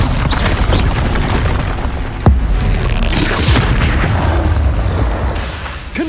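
Loud, dense crackling bursts from a Bombarda explosion spell in Hogwarts Legacy combat, with one sharp boom partway through over continuous rumbling noise, and no voices.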